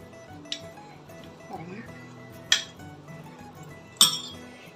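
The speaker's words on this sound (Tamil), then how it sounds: "லாஸ்ட் டம்ளரில் ஐஸ் க்யூப் வேணா சேர்த்துக்கோங்க" Ice cubes clink into a glass tumbler for mango mastani, two sharp bright knocks landing a second or so apart after a softer tap, with a quiet kitchen hum beneath.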